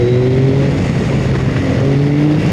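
A Yamaha YZF-R9 sport motorcycle engine pulls hard under throttle from around 4,000 rpm, producing a loud, steady, close drone whose pitch climbs slowly. Wind noise runs beneath it.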